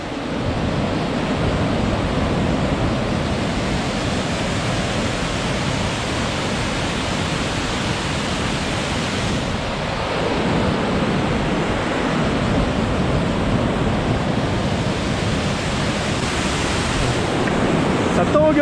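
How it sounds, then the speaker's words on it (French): The meltwater torrent of the Bionnassay glacier roars in a loud, continuous rushing wash, close and steady from start to finish, with no talk over it. "On va arriver à la passerelle qui enjambe le torrent de fonte"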